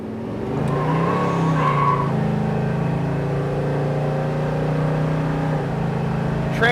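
A 1972 Chevrolet Chevelle SS accelerates hard, its engine roaring loud and steady with a rising pitch through a transmission shift, close and continuous without pause.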